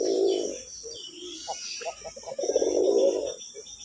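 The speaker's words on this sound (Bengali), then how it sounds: "দেখেন ডাকটা কি সুন্দর, টস করে আওয়াজ করতেছে।" Fancy coloured Golla pigeon cooing up close, deep resonant coo phrases at the start and end with short rapid notes in between, loud and clear.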